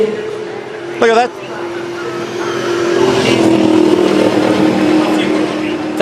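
V8 Supercar race car engines roar on the Sydney Olympic Park street circuit, a loud sustained drone that swells as cars pass close, under excited commentary.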